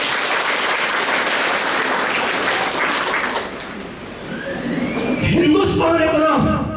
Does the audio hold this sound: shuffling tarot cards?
no